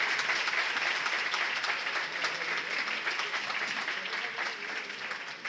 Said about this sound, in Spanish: Un aplauso para Tito Vivas.